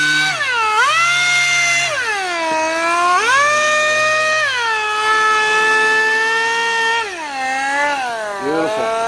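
A power tool, likely a router, cutting a chamfer along the edge of a wooden board, its high whine rising and dropping in pitch as the bit bites and eases off, loud and continuous through several passes with no talking.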